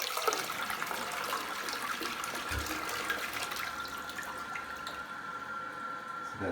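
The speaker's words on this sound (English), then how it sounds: "And here it is with the larger flush." A TOTO Drake two-piece elongated toilet runs its 1.28 gallon flush, a steady rushing wash of water at close range that slowly eases without a loud gurgle at the end.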